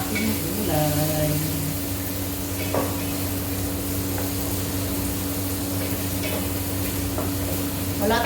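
Vegetables simmering and being stirred in a pot after coconut milk is poured in, a steady close bubbling hiss with occasional spoon scrapes and faint clinks throughout, over a constant low hum.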